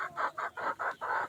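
Elba laying hens cluck in a quick series of six short, evenly spaced calls, close and moderately quiet, with no one speaking.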